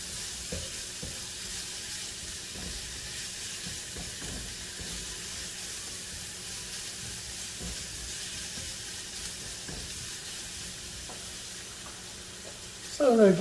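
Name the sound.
bacon sizzling in a pan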